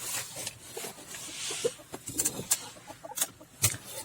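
Chickens cluck close by in a small coop with geese, giving repeated short clucks and a few sharper calls, with no talk.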